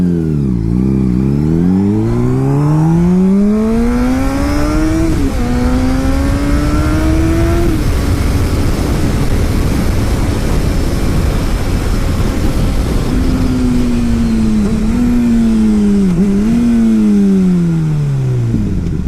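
A motorcycle with a GP-style windscreen revs up close through the gears, its engine note climbing repeatedly with each shift into a loud, sustained roar as it reaches speed, with wind noise and no talking.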